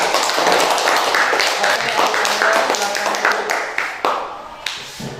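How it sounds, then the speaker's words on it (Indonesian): Classmates in a classroom clapping for a student named Mira, a short burst of close, uneven hand claps tapering off over a few seconds, with voices mixed in. "Tepuk tangan dulu untuk adik Mira"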